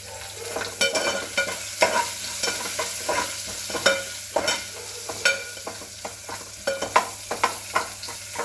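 Chopped onion sautéing in a pan for a South Indian sooji rice dish, with a steady close sizzle and repeated sharp clicks and scrapes of a stirring spoon throughout.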